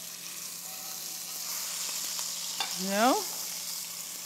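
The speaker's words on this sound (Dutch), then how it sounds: "daar gaan we zo meteen lekker die appeltjes en venkel in bakken" Apples and fennel sizzle and fry in a hot pan, a steady soft crackle under faint kitchen noise, with a brief spoken word and a short rising whistle-like tone near the end.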